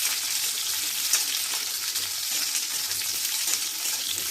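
Jujubes fry in a pan for pickle, giving a dense, continuous crackling sizzle, close and steady, with faint stirring scrapes and no talk.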